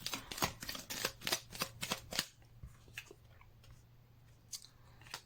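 A new deck of cards is handled and shuffled close by in a quick run of crisp riffling flicks for about two seconds, then a few faint scattered card taps in near silence.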